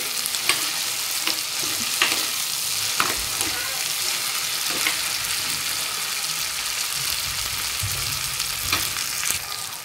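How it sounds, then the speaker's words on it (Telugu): Nellore-style fish curry (chepala pulusu) poured into a hot pan and stirred, a continuous close frying hiss broken by repeated scraping strokes of a ladle. "ఆ టైంలో మనము కలిపి పెట్టుకున్న చేపల పులుసుని దీంట్లో పోసుకోవడమే"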